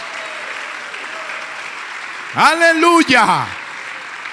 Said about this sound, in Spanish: Démosle un aplauso al Rey de Reyes y Señor de Señores.